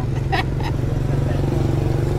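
A large motorcycle engine drones steadily near the river at Sungai Koyan, Ulu Bernam, a low continuous rumble with faint brief clatter near the start.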